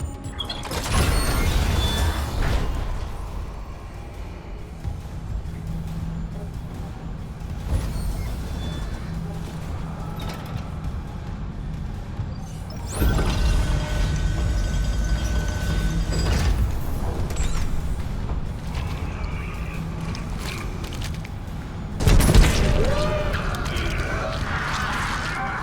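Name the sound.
elevator machinery moving, from the video game Dead Space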